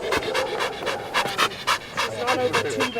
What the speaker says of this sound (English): Belgian Malinois, sleek, lean, dappled gray and black, panting happily on a patch of grass